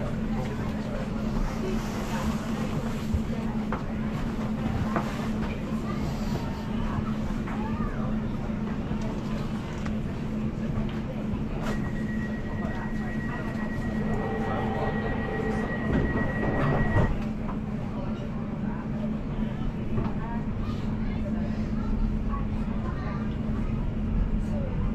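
A London Overground train bound for Chingford runs along the line with a steady low rumble and rattling carriage noise, while an onboard announcement voice speaks over it and a sustained tone sounds midway.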